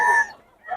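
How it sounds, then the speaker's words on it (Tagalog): Chickens at a bustling Bocaue flea market, with a single loud squawking call that fades out, followed by a brief rise of another cackle close by. "Ayan mga manok niya"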